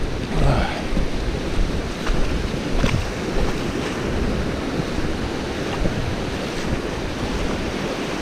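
Choppy winter sea waves break and wash onto the sandy shore at Pevensey Bay, a steady roar of surf under gusty wind buffeting the microphone, with a few sharper splashes standing out.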